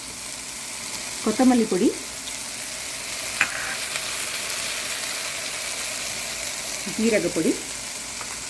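Mushroom masala sautés in a pan, giving a steady, fairly loud sizzle throughout with a sharp clink of a utensil partway; someone talks briefly over the frying.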